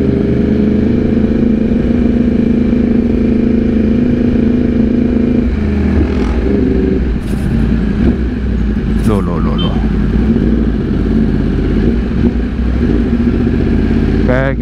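A Yamaha R1 1000cc sport motorcycle engine runs steadily throughout, close and loud, with a voice talking over it.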